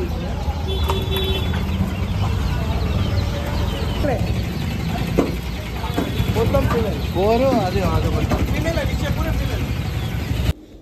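Roosters and hens on a farm cluck and call in bursts near the end, mixed with people talking nearby over a constant background hum.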